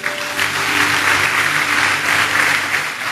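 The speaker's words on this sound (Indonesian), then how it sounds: "Tepuk tangan buat Tuhan." Steady, full applause from a large church congregation, continuous clapping sustained throughout with a low hum underneath.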